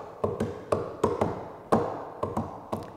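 Hands tapping a two-against-three polyrhythm, a sparse pattern of sharp, dry taps in uneven groupings, close and quiet with no talking.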